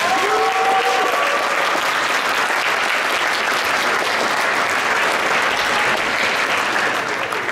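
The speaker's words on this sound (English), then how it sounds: "let's give this group a round of applause" A hall audience applauds award finalists at a junior and senior science fair ceremony, a dense, steady wash of many hands clapping at close range for several seconds, with a brief whistle-like tone near the start.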